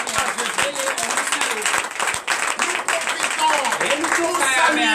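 A church congregation at a Sunday service claps and applauds in a steady burst of many hands, with a voice speaking over the clapping.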